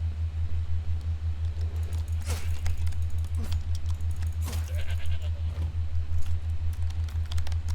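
A goat in the video game Resident Evil Village gives a few short bleats over a constant low droning hum and scattered soft game noises.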